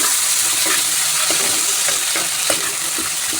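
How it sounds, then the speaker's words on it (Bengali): Chopped onions fry in hot oil with whole cumin for chicken kosha, a close, continuous sizzle broken by a few soft stirring knocks. "এবার দিয়ে দেবো পেঁয়াজ কুচি করে রাখা পেঁয়াজগুলো তেলে দিয়ে দেবো।"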